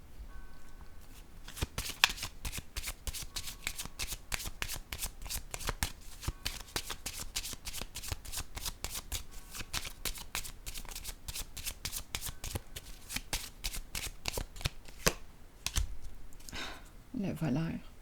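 Tarot cards are handled and laid down on a table, making a long run of quick, close crisp snaps and shuffling flicks, with a person talking softly near the end.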